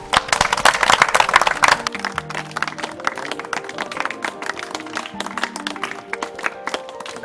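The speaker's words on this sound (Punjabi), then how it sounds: "ਤਾੜੀਆਂ ਮਾਰ।" A crowd at a village meeting claps in uneven, overlapping bursts, loud at first and then thinning into scattered claps, with tonal background sound carrying underneath.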